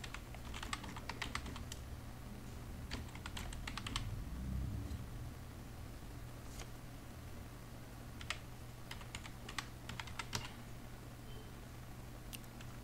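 Quiet typing on a computer keyboard, scattered bursts of soft key clicks with pauses between, close and faint.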